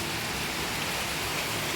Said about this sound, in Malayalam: പക്ഷെ നല്ല മഴയാണ് ഗെയ്സ്